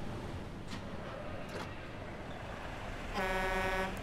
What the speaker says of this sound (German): Oh, Hupe hat er.